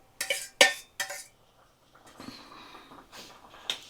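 Fried golda prawns, four of them, go into a pan of malai curry: three sharp metallic clinks from utensil and pan in quick succession, then quieter scraping and soft sizzle.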